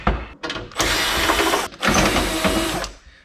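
A ratchet backs screws out of an on-demand hot water heater being scrapped, heard as two loud, close, sustained bursts of rattling mechanical whir separated by a brief pause.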